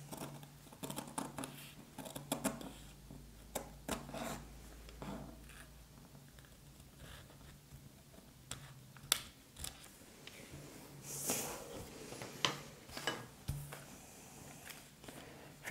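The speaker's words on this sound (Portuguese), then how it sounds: "Agora só é cortar." Scissors snipping through fabric while cutting out a three-layer cloth face mask with a filter pocket, a series of short, close, irregular crisp cuts over quiet room tone.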